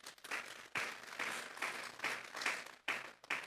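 Church congregation giving a strong round of applause during a Spanish-language sermon, clapping in uneven bursts that swell and break off repeatedly, fairly faint and alone.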